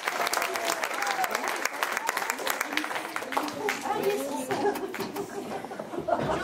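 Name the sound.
audience applause at a cabaret show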